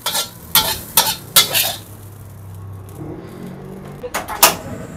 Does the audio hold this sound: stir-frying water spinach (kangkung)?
yes